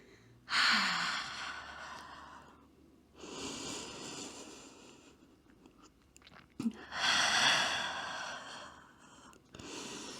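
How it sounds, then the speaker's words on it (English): Long audible exhales through the mouth during a power yoga session, several breathy rushes of air separated by quieter inhales, close up with no talking. "you can always breathe out through the mouth and release some physical heat"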